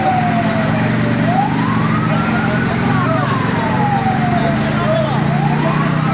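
A fire truck siren wails up and down in slow sweeps over loud engine rumble at a night-time electronics shop fire in Lubuklinggau, Indonesia, close and continuous, with voices faintly underneath.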